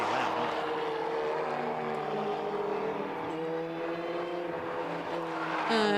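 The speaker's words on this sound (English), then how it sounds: "these planes are very loud" Loud propeller aircraft passing over the Snetterton race circuit during a Time Attack and Racing Hondas championship meeting, a steady droning engine roar that holds throughout and swells slightly at the end, with no talk.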